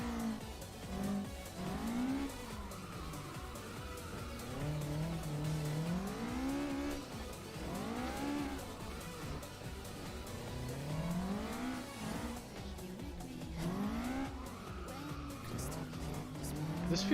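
Car engine in a driving video game, a continuous motor tone that rises and falls in repeated revving sweeps as gears shift, with tire squeal layered over steady road noise.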